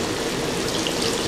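A glass of water pours into a pot of beef mechado simmering with a lemon and soy sauce marinade, giving a steady, close splashing gush that lasts throughout with no talk.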